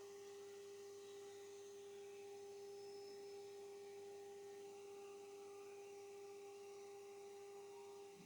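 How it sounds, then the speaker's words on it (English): A CNC machine mills a part with a steady, even whine and a strong constant tone under a low hum, with no break in it and no voices. "I'm going to capture a little bit of real-time CNC machining"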